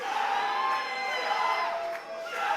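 A wrestling crowd cheering and whooping at a DEFY event in Wilmington, California, a loud sustained roar from a packed room while the entrance is awaited.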